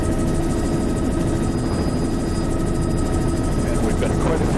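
A helicopter flying over reefs and sandy islands, its engine and rotor making a steady, loud, continuous roar that fills the whole clip without letting up.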